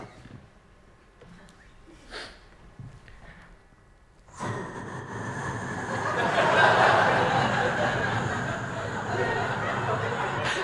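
After a few quiet breaths and snorts, a voice launches into a sustained hissing, chugging noise imitating a train, loud and close.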